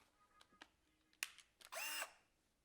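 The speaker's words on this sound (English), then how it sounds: "So I have my drill here." A handheld power drill gives a short, loud whirring burst while assembling a wooden board with right-angle corner brackets, preceded by a few faint clicks and handling knocks.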